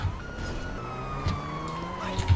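A police siren wails in GTA Online, rising and falling steadily over low engine rumble, clear and moderately close, with a few soft thumps and no talking.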